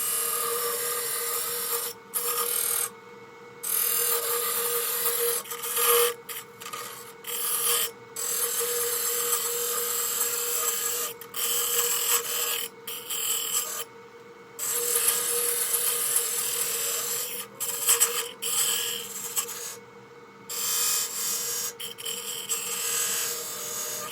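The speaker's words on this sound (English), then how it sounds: "let's make the tenon next" A wood lathe turns a tenon on a baby rattle, giving a steady close scraping, rasping cut with a constant hum beneath and brief gaps where the tool lifts off the wood.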